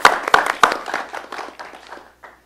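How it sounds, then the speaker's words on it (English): Audience clapping breaks out with a few sharp, loud claps at first, then thins into scattered applause that fades away within a couple of seconds. "We'll give them a round of applause, too."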